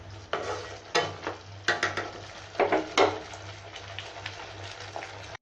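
A spoon stirs spice gravy frying in a pan, giving repeated scraping strokes in irregular bursts over a steady low sizzle, close and fairly loud with no talk.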